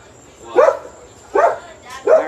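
A dog barks three times in short, spaced bursts indoors, each bark fairly loud against a quiet household background.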